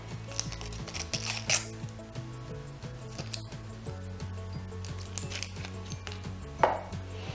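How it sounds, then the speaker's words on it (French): A knife chopping onions on a board, producing quick, close taps in irregular runs over light background music. "Pelez et coupez vos oignons."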